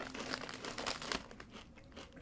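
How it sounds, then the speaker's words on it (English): A crunchy sesame-flavored spicy chip is bitten and chewed up close, giving a quick run of dry crunches and crinkles that fade into softer chewing, with no talking. "It's a very crunchy chip."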